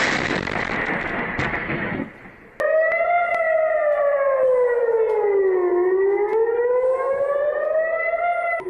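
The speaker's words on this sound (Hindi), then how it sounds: "ईरान के हमले के बाद पूरे शहर में सायरन बजने लगे।" Air raid sirens wail across a city in Israel during an Iranian missile attack, a loud rising and falling tone that swells and dips continuously after a brief burst of broadband noise at the start.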